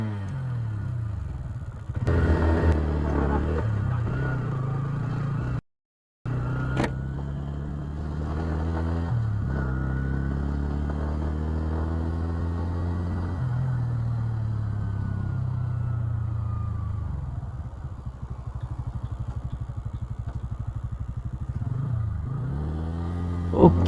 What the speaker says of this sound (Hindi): अभी इस बाइक को एक बार चला के देखते हैं